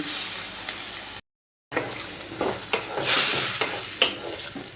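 Water is poured into a banana stem curry frying in a pan, and the close, steady sizzle swells into a bubbling hiss, with a few scraping stirs and a brief silent gap near the start.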